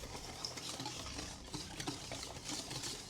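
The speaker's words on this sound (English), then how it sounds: "Now we're gonna whisk it up." Whisking a seasoning mixture with cayenne pepper for fried rabbit, giving a steady, continuous scraping and swishing close by for about three seconds.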